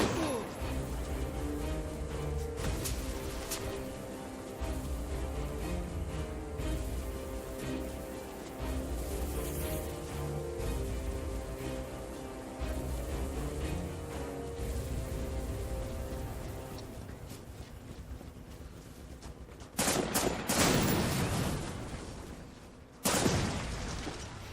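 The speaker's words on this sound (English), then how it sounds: "these explosions are a bit disappointing" Dense rumbling combat noise with scattered bangs from video game explosions and gunfire in an Unreal Engine 4 action first-person shooter, then two sharp, loud blasts near the end, over a steady synthetic background.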